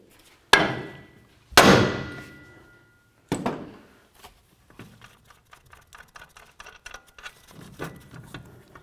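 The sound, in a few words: hammer striking ball joint nut to separate truck knuckle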